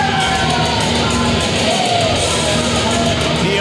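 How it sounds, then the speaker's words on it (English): Loud, sustained ovation from a New Age Wrestling crowd for heavyweight champion Chris Taylor, a thick mass of cheers, yells and whoops with individual shouts poking through. "Ovation from the crowd here tonight, showing love to the New Age Wrestling Heavyweight Champion"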